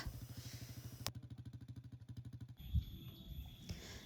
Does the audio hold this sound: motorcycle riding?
yes